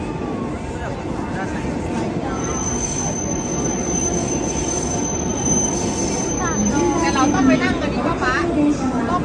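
A train near Gala Yuzawa, Japan, rolls steadily along the rails with continuous rumbling and wheel noise, occasional metallic squeals, and a faint voice in the background.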